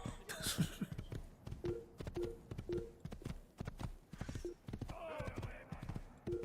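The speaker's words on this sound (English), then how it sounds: "I thought the horse might have calmed down" Hooves clip-clop at a steady trotting rhythm from a horse in Assassin's Creed, fairly close and moderately loud, with a few short whinny-like game sounds and a voice speaking over them.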